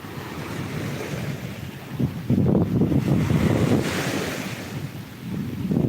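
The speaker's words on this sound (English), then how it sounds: "This is our favorite beach though." Surf rolls in and breaks on Chuburna beach in Yucatán, Mexico, with gusty wind buffeting the microphone, swelling and easing in rough waves of loud, close noise and no one talking.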